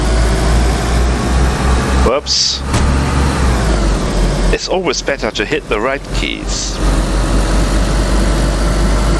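A Land Rover idles and drives in the survival game DayZ, its steady engine drone continuous throughout, with someone speaking briefly over it midway.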